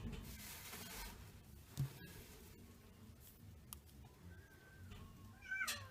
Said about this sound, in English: I've got my kitty cat meowing at me.